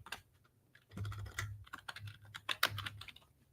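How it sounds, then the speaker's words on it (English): A computer keyboard clicks under quick fingers in an irregular run of close, crisp keystrokes, sparse at first and then denser, with a low steady hum underneath. "I'm just typing in Breece Hall"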